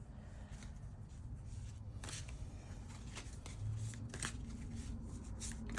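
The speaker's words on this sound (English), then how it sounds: "time to get a shuffle in" Quiet, close rustling and riffling of tarot cards being shuffled in several short bursts, with no talking.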